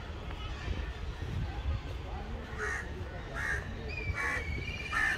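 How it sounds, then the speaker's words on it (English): Birds at Lahore Zoo give several loud, crow-like caws in a row, spaced about a second apart over steady outdoor crowd noise and nearby voices. "It's a bird."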